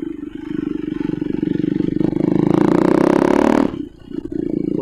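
A KTM Duke 390 motorcycle engine runs loud and steady, then revs up hard for about a second, drops back abruptly, and settles again near the listener.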